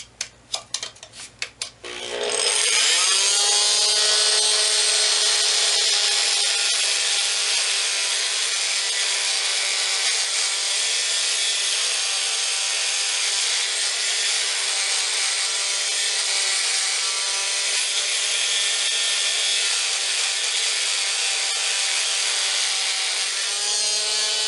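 Harbor Freight oscillating multi-tool cutting out caulk beside tile, a loud steady buzzing saw whine that starts after a couple of seconds and runs unbroken to the end.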